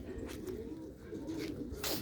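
Domestic pigeons in a backyard pigeon enclosure give low, continuous rolling coos, several birds overlapping close by with no talk and a faint hiss of background noise.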